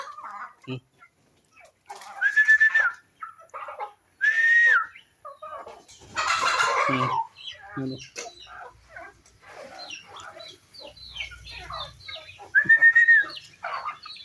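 Chickens waiting to be fed in the morning after a night of heavy rain make loud, repeated clucks and rising whistle-like calls in short bursts, with pauses and some quieter rustling between them.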